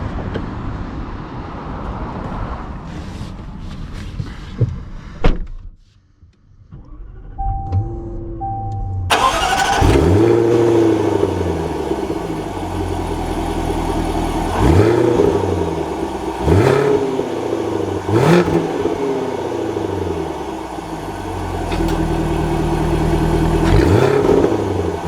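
A 2021 Jaguar F-Type R fires up after a quiet pause with a sharp starting bark, then settles into a deep idle before pulling away, its engine rising and falling in repeated strong acceleration surges, loud and close.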